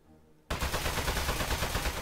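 Rapid gunfire in the video game Aperture Desk Job, a sudden loud burst that starts after a moment of quiet and continues as dense, sustained shooting, with no talking.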